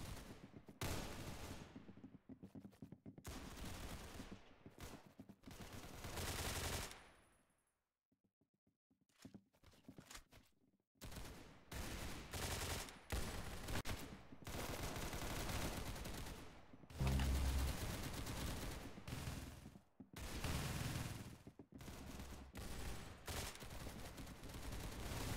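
Rapid bursts of gunfire and machine-gun volleys in an Arsenal video game match, loud and dense, broken by a brief quiet stretch before the shooting resumes.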